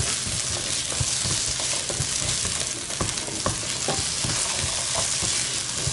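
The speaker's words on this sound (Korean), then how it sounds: "버터 녹이셔서 감자 볶아요." Potatoes frying in melted butter over high heat, a steady close sizzle with scattered stirring clicks and scrapes throughout.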